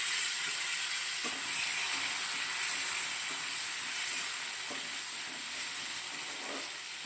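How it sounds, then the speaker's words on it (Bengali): Potatoes and tomatoes fry in a pan after cumin and bay leaf tempering, giving a steady broadband sizzle throughout with a few faint stirring knocks and no talk. "এবার আলুগুলো একটু ভালো করে ভেজে নিয়ে তারপরে মশলা দেবো।"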